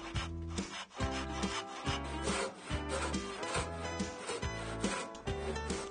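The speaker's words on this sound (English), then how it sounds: "Now with my rip saw, I just have to saw down that middle line." A hand rip saw rasps rhythmically through a wooden board in steady back-and-forth strokes, close and fairly loud, about a dozen strokes with no talking.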